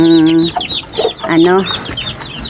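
Newly hatched chicks give repeated high, thin peeps, close by, mixed with lower clucking calls throughout.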